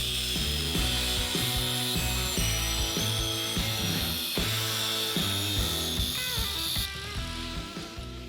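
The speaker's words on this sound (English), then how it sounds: "I'll just quickly cut that out with an angle grinder." An angle grinder cuts a circle out of a wooden Viking shield blank, a loud continuous whining, buzzing tone that shifts as the cut proceeds, close-up with no talk.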